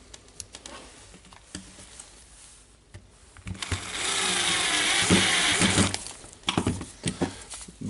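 Makita DDF456 18V LXT cordless drill driving four screws, a steady whirring buzz of about two seconds surrounded by ratcheting clicks and handling taps, close up with no talk.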